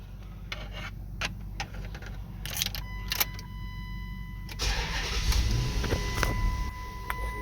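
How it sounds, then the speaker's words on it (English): A Dodge Durango started with a newly programmed key: clicks and a brief electronic chime, then the engine cranks and catches into a low steady idle, heard up close inside the vehicle. "That key is programmed, so crank, start, and it's running."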